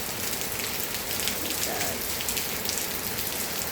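Heavy rain falls steadily all day onto a surface outside a house. The downpour is a dense, constant hiss that holds at an even level from start to finish. No voices are heard.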